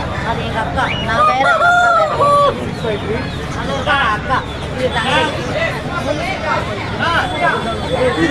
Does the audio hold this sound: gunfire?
no